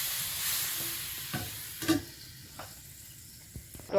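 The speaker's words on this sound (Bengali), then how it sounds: "বক করে ফুটছে" Curry with sheng (snakehead) fish simmering in a covered pan, a soft steady bubbling and sizzle at low level with a few faint clinks, close by and alone.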